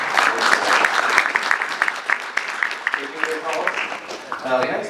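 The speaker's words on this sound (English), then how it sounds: "Let's give you a round of applause for coming here." An audience at an eRepublik summit in Bucharest applauds with dense clapping that thins out, while voices and talk come through under and after it.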